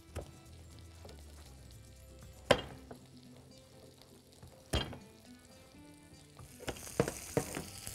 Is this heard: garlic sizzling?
yes